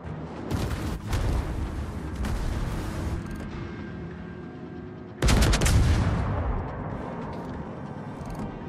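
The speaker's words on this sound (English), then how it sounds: "Fire on the enemy warship." Cruiser Yoshino's naval guns firing on an enemy warship in World of Warships, loud booming salvos with a heavy blast near five seconds, rumbling tails between shots and no talk.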